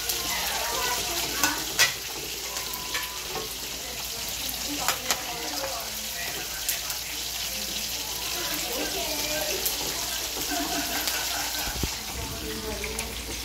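Spam fries and sizzles steadily in a pan of sautéed ingredients for a creamy chicken carbonara, with a constant close hiss and a few sharp clinks from stirring throughout.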